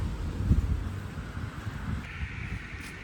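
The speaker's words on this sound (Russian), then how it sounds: "У нас сильный ветер" Strong wind gusting outdoors on an autumn street, buffeting the microphone with heavy low rumble and rustling that eases slightly after the first second.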